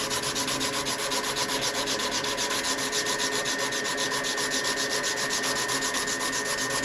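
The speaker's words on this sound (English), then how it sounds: "so I can afford to do a bit more sanding on this section" Abrasive paper rubs back and forth over a wooden bushcraft knife handle being shaped into a coke-bottle profile, a close, steady rasping scrape with even strokes and no talk.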